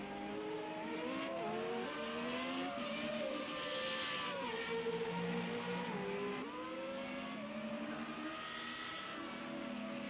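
An FR35 race car accelerates hard down the back straight at the Algarve circuit, its engine note climbing through repeated gear shifts and staying loud and continuous throughout.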